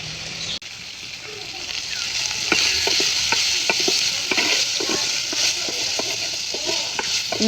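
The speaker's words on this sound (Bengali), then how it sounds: "এখন এই তেলের উপরে এটা ভাজা ভাজা করে নিব" Boiled fish frying in plenty of oil on a rooftop stove, a loud, dense sizzle with repeated scraping strokes of a spatula as the water cooks off.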